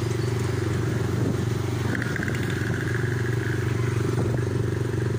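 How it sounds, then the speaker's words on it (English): A motorbike rides through the Dadyal bazaar with a continuous, close engine drone and steady road rumble throughout, with a little rattling and no talking. "Making this video from a motorbike."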